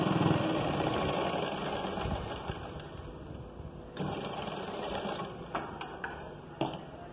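A sewing machine stitches the side joint of a blouse with a fast, continuous mechanical whir at a moderate distance, easing off partway through and followed by a few light clicks and taps of handling.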